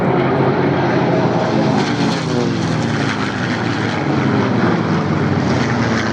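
A World War II propeller aircraft in French Air Force roundels roars past loudly at the Duxford Flying Legends airshow, its piston engine droning with shifting pitch as it passes close overhead; a commentator's voice is faintly mixed in.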